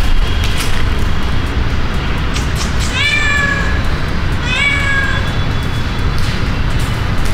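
A cat meows twice, clear and fairly close, two short rising calls a second or so apart, over a steady outdoor background hum outside a building.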